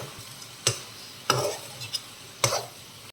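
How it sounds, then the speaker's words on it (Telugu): A spoon scrapes and stirs bitter gourd frying uncovered in a pan, three or four distinct stirring knocks over a soft steady sizzle. "మధ్య మధ్యలో కలుపుతూ ఉండాలండి."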